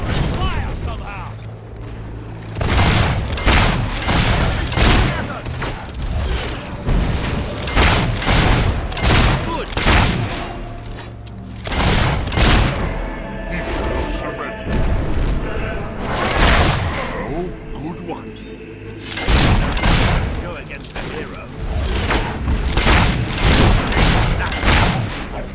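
Gunfire and cannon booms in the Fable 3 video game, heavy repeated blasts and crackling volleys in uneven bursts, loud and close, with voices speaking over the battle.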